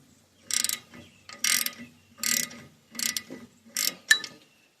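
A ratchet socket wrench clicks in five distinct bursts of rapid ratcheting, close and clear with short pauses between, while adjusting the alternator on an Oliver 70 tractor.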